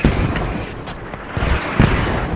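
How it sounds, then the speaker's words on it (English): Hell cannon artillery fire in the Squad video game, with several booming blasts and impacts scattered across a dense, loud rumble of battlefield noise. "Oh, good hit with the hell cannon."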